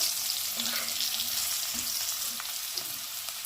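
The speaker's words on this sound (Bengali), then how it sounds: "আলু খুব কড়া করে ভাজবো না, আগেই বলেছি, তাহলে আলু পরে শক্ত হয়ে যায়। হালকা করে ভেজে নেব।" Potato pieces fry gently in a pan for a curry, with a steady soft sizzle and occasional stirring scrapes, no talking.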